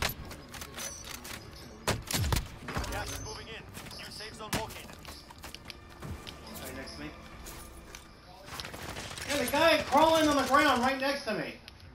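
Gunfire in Call of Duty Warzone, sharp shots and thuds scattered through the scene with voices talking over and between them.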